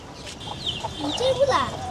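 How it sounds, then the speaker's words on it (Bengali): A hen clucking softly among thin peeping calls from her six chicks, with faint voices in the background. "রায়ান, আমাদের একটা মুরগির 6টা বাচ্চা আছে না, ওইটাকে আসো একটু ছেড়ে দিই।"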